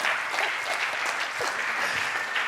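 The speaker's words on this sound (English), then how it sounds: "ladies and gentlemen, can we have a big round of applause for Sano?" A hall audience applauds for Sano with sustained, even clapping from many hands, moderately loud and continuous throughout, with no talk over it.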